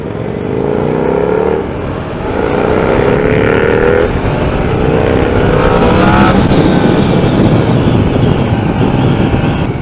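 A Yamaha MT-10 motorcycle engine roars loud and close as the rider rolls on the throttle, pitch climbing through several rising pulls with brief dips between gear changes.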